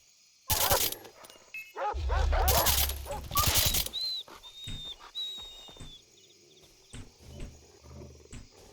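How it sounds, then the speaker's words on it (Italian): Dogs bark and growl in the Far Cry 3 video game, loud and close in bursts during the first few seconds, followed by quieter game sounds and ambient noise. "c'hanno i cani di merda"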